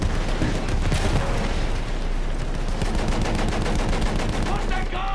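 Dense, continuous gunfire from Battlefield 1 rattles at close range in rapid overlapping bursts, mixed with booming blasts and a steady roar of battle throughout.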